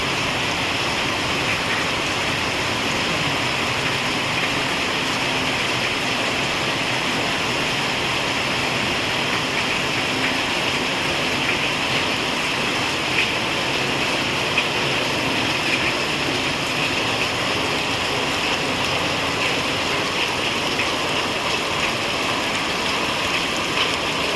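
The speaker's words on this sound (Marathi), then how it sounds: "बाहेर बा पाऊस किती मस्त पडतोय आणि ते पन्हाळ्याचं पाणी पडतंय" Steady monsoon rain in rural Konkan, with water pouring from a roof gutter, forming a continuous close hiss and splash without pause or voices.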